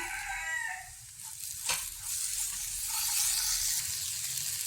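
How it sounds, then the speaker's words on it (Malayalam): Chilies frying in a pan, a steady hissing sizzle with a spoon scraping and stirring through it, close and continuous, with a short clack partway through and no talking. "മുളകിൻ്റെയൊക്കെ പച്ച മണം മാറുന്നത് വരെ ഒന്ന് ഇളക്കി കൊടുക്കാം"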